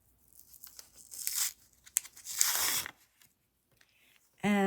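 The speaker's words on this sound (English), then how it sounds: "Remove the paper from the second larger circle" Paper backing being peeled off a felt circle for a penny rug Christmas ornament: a few short, close crackling tears in bursts, then a brief voice at the end.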